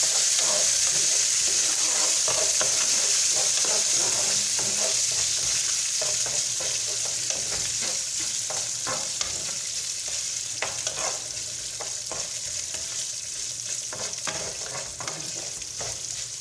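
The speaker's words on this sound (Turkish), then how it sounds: "Nohutla birlikte kavurmayı tercih ediyorum ben." Chickpeas sauté in a hot pan for a rice pilaf with vermicelli, giving a steady, close sizzle with frequent scrapes and clicks from stirring.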